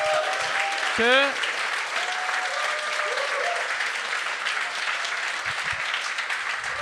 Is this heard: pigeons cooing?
no